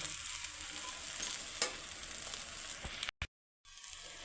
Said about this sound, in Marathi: आणि मस्त असं परतून घ्यायचं